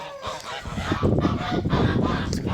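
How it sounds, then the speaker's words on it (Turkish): A flock of 23 geese honks loudly and repeatedly at close range, their harsh calls overlapping in a noisy chorus. "Kendimize şimdi burada 23 tane kaz var."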